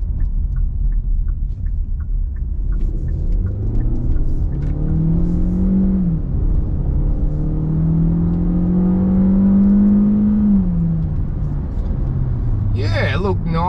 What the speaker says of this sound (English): we'll go and have a look at how the 2 litre performs